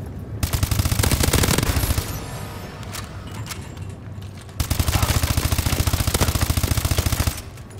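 Rapid automatic gunfire in Call of Duty: Advanced Warfare during an online Uplink match, loud sustained bursts with a short lull before another long rattling burst.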